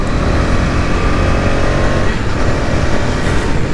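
A KTM Duke 250 motorcycle accelerates hard on the road with a loud, continuous engine roar and rushing wind noise close to the rider.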